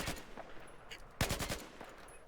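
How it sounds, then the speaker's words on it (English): Slow, deliberate carbine shots in a video game, a few spaced reports with one sharper burst in the middle, fairly close and clear with no talking over them. "this is a very low rate of fire and this rather accuracy dependent carbine"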